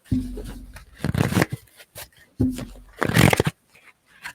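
Tarot cards shuffled by hand in two short riffling bursts, each a close, papery flutter lasting about a second, separated by a brief pause.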